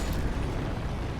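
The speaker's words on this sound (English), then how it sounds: "Oh, it's the Frenzy Explosion." A Frenzy Explosion in Elden Ring erupts as a loud, dense roaring blast that fills the whole moment without easing, with no voices.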